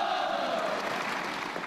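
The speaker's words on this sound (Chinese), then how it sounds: "掌声有请" Applause from the audience at a military air-defence brigade competition show, a steady wash of clapping throughout, moderately loud and diffuse.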